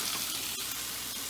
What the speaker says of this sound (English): I'll just go ahead and add my lamb